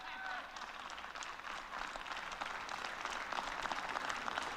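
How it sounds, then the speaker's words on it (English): A group of people clap together during a live political broadcast about the House Speaker vote, a steady, dense patter of many hands heard close and moderately loud, with faint voices underneath. "Seems like there's more than 5 people clapping"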